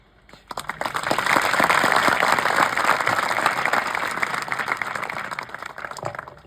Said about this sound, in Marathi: पहिलं टाळी कोण वाजवणार?